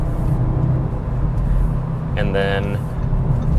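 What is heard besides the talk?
2022 Audi S3 accelerating onto the interstate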